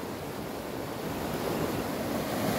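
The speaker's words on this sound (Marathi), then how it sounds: "पाण्याचा फोर्स बघू शकता तुम्ही पूर्ण माती धुऊन जाते" A continuous, powerful roar of a river in spate after four days of heavy rain, rushing water broad and unbroken, with some wind buffeting and no voices.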